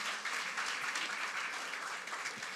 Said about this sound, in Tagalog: pumalakpak ng malakas kay Lord